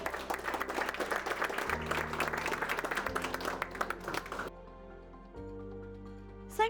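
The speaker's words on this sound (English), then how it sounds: "So please give a big round of applause to Congressman." Dense, sustained audience applause at a conference talk for a congressman fills the first few seconds, then fades into soft instrumental music that carries on alone.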